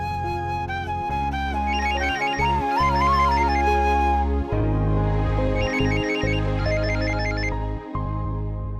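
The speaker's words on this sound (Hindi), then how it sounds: "ये विहान का फोन है प्रियंका के लिए" A telephone ringtone plays a repeating electronic melody, loud and near, cycling through its tune with short pauses between phrases.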